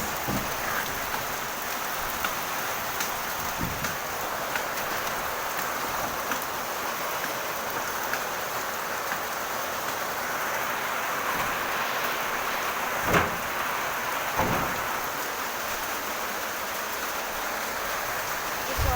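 Steady rain hisses evenly throughout, a dense wash of falling drops with a couple of brief louder splashes, no voices.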